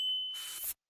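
A notification bell dings with a clear, sustained high chime, then a brief airy whoosh swells and cuts off abruptly, alone and fairly loud.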